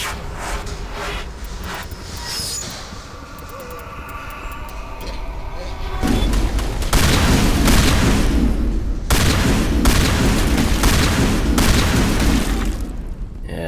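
Heavy gunfire and booming blasts in Mass Effect as a shotgun is fired at a creature's tendrils, a dense, loud barrage of repeated shots over rumbling background, with talk underneath.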